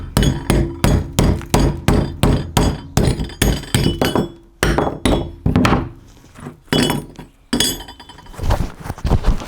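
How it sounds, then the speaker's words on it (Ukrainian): Hammer chipping slag off a freshly arc-welded stick electrode seam, a rapid run of sharp, close metallic taps with a few short pauses and scraping between bursts. "От ми зварили шов, зараз відіб'ємо шлак і подивимося, що з цього вийшло."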